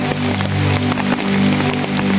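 Heavy rain pouring during a low-pressure storm in a river port town, a dense steady roar with scattered splashes and patters nearby, loud and unbroken.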